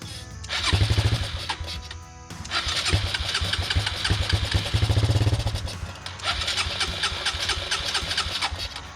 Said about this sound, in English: it definitely fires up, so that is really good